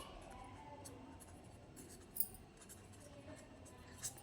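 A pen writing a name on paper, a faint, steady scratching with a couple of slightly louder strokes, close and quiet with no talking.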